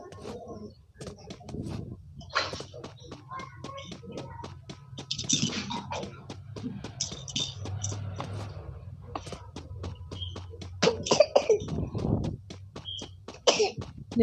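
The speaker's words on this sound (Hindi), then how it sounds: "ज्यादा बोलना था, खांसी आ गई" Several short, rough coughs among rapid chirping birds and scattered clicks, with faint voices now and then.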